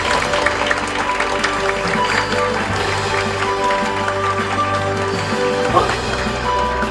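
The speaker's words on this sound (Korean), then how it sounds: "여러분들 응원의 박수 전달해주세요" An audience claps together at a Korean anniversary ceremony for Rare Disease Day, a dense steady wash of applause that fills the room without pause, with a low hum underneath.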